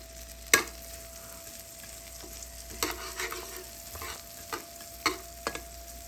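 Vegetables heating in a pan for a mixed vegetable and quail egg dish, giving a steady low sizzle with several sharp stirring clatters and scrapes, fairly close and with no talking.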